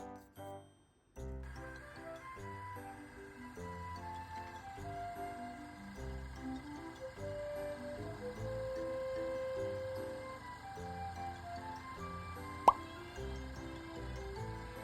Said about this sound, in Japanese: オイルが落ちましたね。